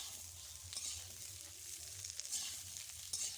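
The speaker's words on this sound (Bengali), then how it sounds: "আলু আর ঝিঙেটা একটু সামান্য ভেজে নেব" Potatoes and ridge gourd sizzling in oil in a pan after onions and green chillies, a steady close crackling fry with small spatters and occasional stirring scrapes, no voices.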